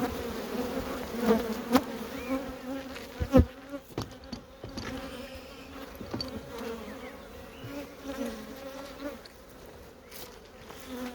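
Honeybees at an open productive hive colony, a dense steady buzz of many insects close by with a few louder passes near the ear, and no talk.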